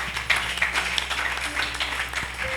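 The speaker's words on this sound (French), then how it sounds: "Acclamons pour la gloire de notre Dieu" A church congregation claps and applauds in praise, a steady wash of many hands with a few sharper individual claps, moderately close, over a low sustained hum and without speech.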